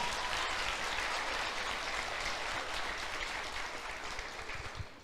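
A church congregation applauds in a dense, steady wash of clapping that fills the room and tapers off slightly toward the end.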